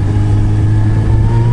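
A car engine with a new cheap aftermarket exhaust runs loud and near, with a steady low droning rumble and rising pitch as it revs, no voices over it.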